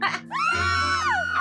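A single sustained scream rises and then falls during a horror jump scare scene in a period TV drama, loud and alone, lasting about a second.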